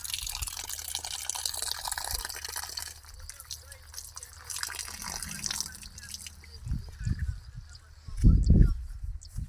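Water splashes and drips as hands are rinsed, with a brief louder gush of running water near the end.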